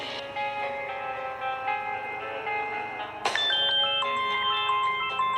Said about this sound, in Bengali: পরিণীতার ফোন?